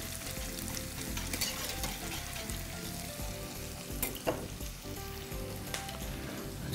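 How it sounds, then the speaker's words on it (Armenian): Red sweet peppers frying in a pan, with a steady close sizzle throughout and a few sharper scraping clatters from stirring near the middle and end. "Չմոռանանք պարբերաբար խառնել"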